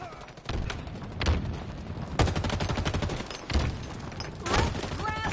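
Bursts of gunfire from Halo Infinite multiplayer come in several loud volleys of rapid shots, with game sound effects between them and no talking.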